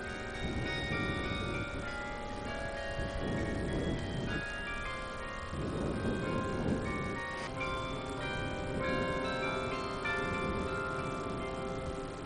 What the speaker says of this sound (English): That's totally the Carillon playing the horrible music that it plays.